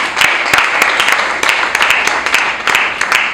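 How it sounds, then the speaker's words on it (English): An audience claps at an event, a dense, loud, steady burst of applause from many hands without pause. "a round of applause for him"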